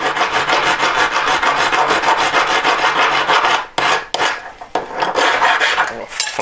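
Metal being filed by hand to shape a scrolled back shoulder, a loud, steady rasping of rapid strokes that runs continuously before breaking into a few shorter, separated strokes near the end.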